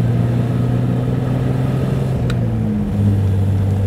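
A 1936 Riley Kestrel 15/6 with a smooth six-cylinder engine and pre-selector gearbox pulls away under acceleration, a steady humming drone heard from inside the car, with the pitch shifting as it gathers speed.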